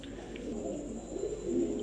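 Caged pigeons coo softly in low, rolling murmurs at close range, a gentle continuous warble over a quiet background, without any voices.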